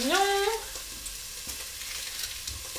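Smoked sausages frying in a pan over high heat, a soft, even sizzle running the whole time after a brief rising tonal sound at the very start.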